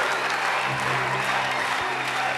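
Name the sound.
stadium audience ovation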